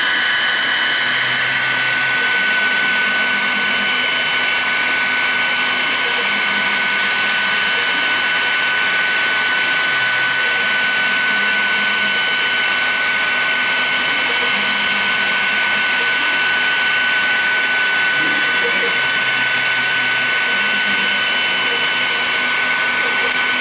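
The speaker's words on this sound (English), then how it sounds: "When you click the play button, the spindle will start up to the proper RPM that it was programmed for." A CNC router spindle whines steadily at high RPM while cutting a programmed square and circle, a loud continuous high-pitched hum with a constant tone, with faint lower tones shifting beneath it.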